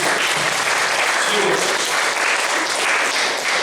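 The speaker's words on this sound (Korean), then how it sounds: "서로를 향해서 박수 한번 쳐줄까요?" A church congregation at an Easter worship service applauds one another: dense, loud, continuous clapping from a full room that holds steady for the whole stretch.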